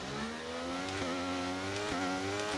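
Formula 1 cars in the F1 23 video game rev their engines on the grid before the race start, a loud sustained whine with rising pitch sweeps as revs are blipped twice.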